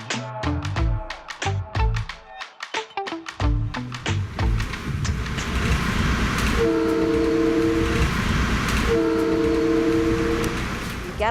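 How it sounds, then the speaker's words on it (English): Train arriving at Grand Central Station in New York City: a rhythmic clatter of wheels over rail joints at first, giving way to a steady loud rumble with two sustained horn-like tones sounding near the end. "Get off your train and you roll into Grand Central Station"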